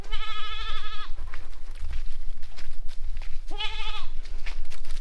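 Goats on a farm bleat loudly and close by, two drawn-out wavering calls about two and a half seconds apart, with shuffling hooves and movement filling the gaps between them.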